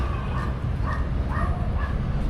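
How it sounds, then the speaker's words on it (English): Dogs bark during an outdoor walk, giving a few short, fairly distant yips and woofs spaced about half a second apart over a steady wash of background noise. "Are you barking, dogs?"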